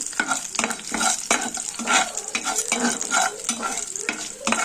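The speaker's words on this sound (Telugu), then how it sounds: "ముందుగా ఇందులో పోపులు వేసుకుని బాగా 5 to 5 minutes ఫ్రై చేసుకోండి" Tempering spices stir-fry in hot oil for a spinach fry, with a steady sizzle under repeated rhythmic scrapes and clinks of a spoon against the pan, close and clear, with no voices.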